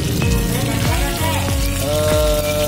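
Indonesian bay leaves (salam) frying in hot oil in a pan while making orek tempe, giving a steady loud sizzle with light popping and crackles throughout.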